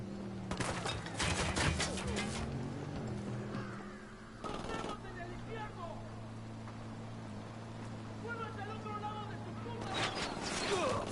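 Rapid bursts of automatic gunfire and scattered shots in the tactical shooter Ghost Recon Wildlands, loud and close at the start, then sporadic bursts over a steady low engine-like drone and ambient wind, with game voices talking in between.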